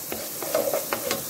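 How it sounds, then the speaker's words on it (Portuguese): Chopped spring onions sauté in a pan with a soft, steady sizzle and a few light stirring scrapes, close and brief. "Cebolinha aqui refogada."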